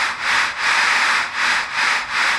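An IP radio ghost box app on a phone scanning through channels, giving a hissing burst of static that swells and dips in regular pulses about every half second, steady and close with no voices.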